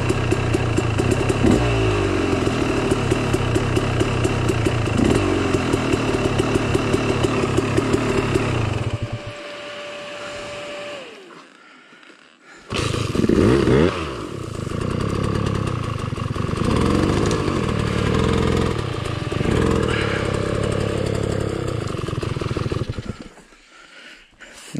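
A motorcycle engine runs close by, sputtering and revving in rhythmic bursts, then drops out briefly before restarting and roaring again with clattering, ending in a sudden stop; no one talks over it.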